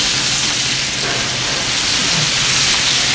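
Shrimp hitting hot blended oil in a pan, a loud continuous broadband sizzle with a steady hiss and no talk over it.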